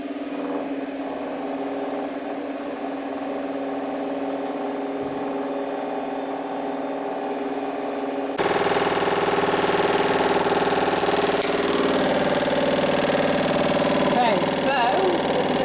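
A washing machine running a spin cycle in test mode with one slightly damp towel inside, its steady motor drone rising sharply in level partway through, with irregular knocks and bangs from a fault down low in the machine.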